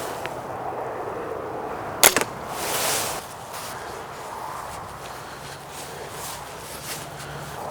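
An arrow fired from a bow in a compound bow versus pistol crossbow comparison: a single sharp, close release snap followed by a short whoosh, then quiet outdoor ambience.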